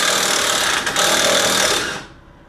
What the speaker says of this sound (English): at least for the torque on my DeWalt 18 volt impact drill, the torque on that is not insane